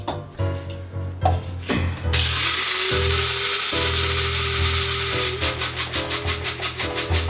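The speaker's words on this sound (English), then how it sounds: "I stick it here in the old grinder, and we do a little grinder on it" An old electric grinder grinding whole coffee beans starts after a few clicks and knocks, then gives a loud continuous whirring roar and ends in a rapid series of short pulses.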